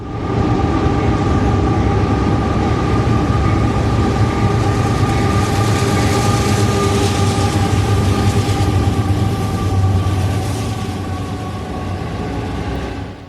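A long southbound autorack and intermodal freight train rolls past close by, a loud continuous rumble with rail clatter and squeal, steady throughout and easing slightly at the end.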